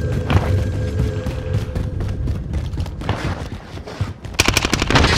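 Rapid bursts of PPSh submachine gun fire in the Call of Duty Warzone video game crackle loud and close over booming game action, with the densest stream of shots near the end.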